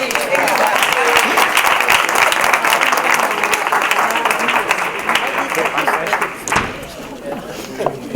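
An audience applauds a speaker at a talk on medicinal plants, with dense, steady clapping that carries on for several seconds and thins out toward the end, while a voice speaks over it.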